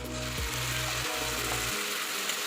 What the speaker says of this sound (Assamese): বিলাহীখিনি দি আৰু অলপমান ভাজি ল'ম।